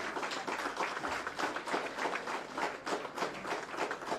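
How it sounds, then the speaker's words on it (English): Steady applause from a crowd at a staff award ceremony, dense clapping that holds at an even level throughout, with no speech over it. "can we rise up and give a big round of applause again?"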